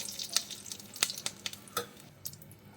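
Dried red chillies and whole spices (cardamom, cloves, cinnamon) sizzling in melted butter in a pan, a steady hissing bed broken by sharp crackling pops at irregular intervals, close and moderately loud, with no one talking.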